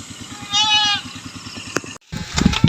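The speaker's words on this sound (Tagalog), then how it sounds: "Ating mga kambing." Goats bleating outdoors, one wavering bleat rising clearly over a low rhythmic background hum, followed by a sharp cut and some close knocks and handling noise.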